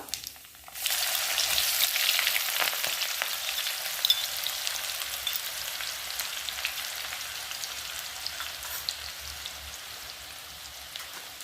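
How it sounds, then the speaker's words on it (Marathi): Onion goes into hot oil already holding cumin and mustard seeds for an eggplant curry: after a brief quiet moment a sudden sizzle bursts up and settles into a steady, moderately loud hiss. "तेल झालेलं आहे तर मी आता याच्यात जिरं अजून मोहरी टाकते आता कांदा टाकायचा"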